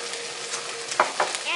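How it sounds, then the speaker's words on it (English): Garlic sizzling in a pan over medium heat while vegetables are sautéed for fettuccine, a soft steady crackle with a few light stirring scrapes, fairly quiet. "We're going to turn our heat to medium heat and add in some garlic."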